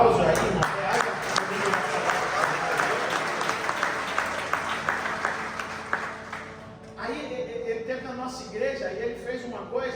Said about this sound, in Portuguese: Dê um aplauso aí, irmão.